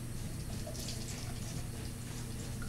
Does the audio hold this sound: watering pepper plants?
yes